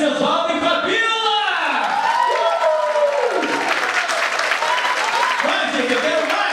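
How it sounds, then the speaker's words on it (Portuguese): An audience welcomes dance performers with applause and cheering, loud clapping mixed with whoops and shouts while a voice talks excitedly over the crowd through most of it. "eu queria que vocês recebessem com muito carinho, muito aplauso, com vocês, Mestre Oswaldo e Fabíola!"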